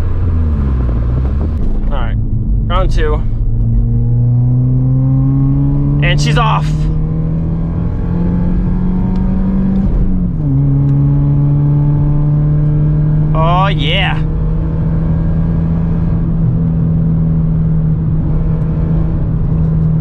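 A Mk4 VW Bora wagon with its muffler deleted drives along, its raw exhaust droning steadily and rising through the gears, with a few sharp revving bursts, close and loud beneath someone talking.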